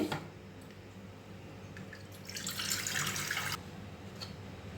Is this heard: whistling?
no